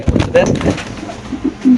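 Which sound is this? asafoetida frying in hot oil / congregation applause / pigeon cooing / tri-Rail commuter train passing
pigeon cooing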